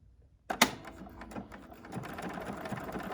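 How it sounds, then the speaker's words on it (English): A BERNINA sewing machine stitches a 5/8 inch seam, starting abruptly with a clack and then running as a steady close mechanical whir with rhythmic light ticking of the needle. "And now I'm going to stitch."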